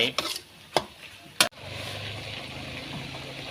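Spicy eel being stir-fried in a pan with fingerroot, three sharp clanks of a utensil against the pan at the start, then a continuous steady sizzle.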